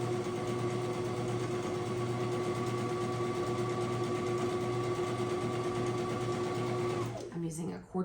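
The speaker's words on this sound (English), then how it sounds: "we're gonna sew right down this side." A sewing machine stitches down the side of an 8-inch quilt fabric strip with a 1/4 inch foot, a steady close whirring run of about seven seconds that then stops, followed by brief handling noise.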